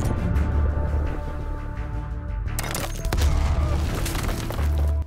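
Grenade explosion in Black Ops Cold War, a sudden loud burst that breaks into a crackling, shattering blast and lingering rumble after a stretch of steady game noise.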